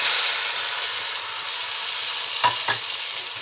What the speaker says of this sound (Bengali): দিয়ে আমি কাঁচা গন্ধটা যাওয়া অবধি একটুখানি ভেজে নেব।